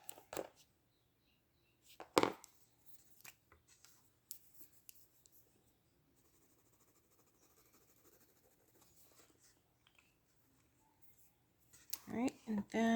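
A white Jelly Roll gel pen drawing on gray toned paper gives soft, intermittent scratchy strokes and light taps, close and quiet, with a few louder handling knocks and rustles near the end.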